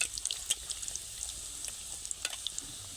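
Luchi puris fry in hot oil, a faint crackling sizzle with scattered small pops and bubbling bursts over a quiet background.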